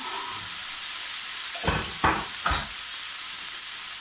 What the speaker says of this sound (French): Et on va venir cuire ça tranquillement